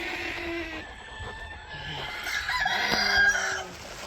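Chickens in a coop clucking continuously at close range, with a rooster crowing partway through, while rain falls outside.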